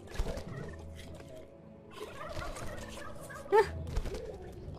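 Turkeys gobble in the video game Dungeons 3, a brief warbling burst rising over a busy background of game music and effects, with a softer gobble after it.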